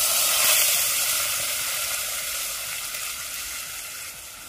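Ground masala paste hisses loudly in hot tempering oil for a Konkan-style spicy fish curry, a strong steady sizzle that starts intense and slowly softens, with no talk.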